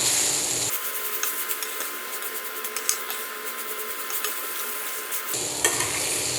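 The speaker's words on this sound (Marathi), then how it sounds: "आता सर्वात शेवटी घालायची आहे कोथिंबीर मिक्स करून घेऊयात पुन्हा एकदा" A spoon scrapes and stirs through a pan of winged bean vegetable dish as fresh coriander is mixed in, a rhythmic rubbing and soft sizzle over a few seconds, close and alone without talk.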